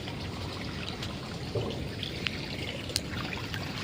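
Water trickles and pours steadily as a swimming pool drains, a continuous low splashing flow with a few faint clicks, no voices.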